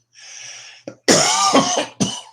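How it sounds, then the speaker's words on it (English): Harsh coughing and throat clearing after smoking a spliff, one short hack followed by a burst of several raspy coughs, close and loud with no talking. "really makes me cough."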